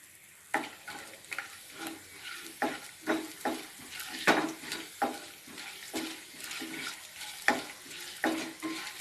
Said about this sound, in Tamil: இதை போட்டு பட்டை பொரிச்சிக்கலாம்